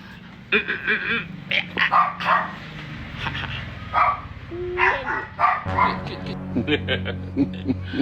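A dog barks and yips in short bursts, close by, alternating with whimpering whines, while a person speaks between the barks.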